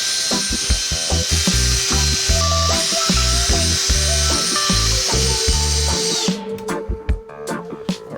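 Power drill driving bolts into an alder wood slide-out dining table in a camper van, in repeated bursts of whirring and ratcheting, loud and close, with short pauses between runs and clattering handling noises at the end.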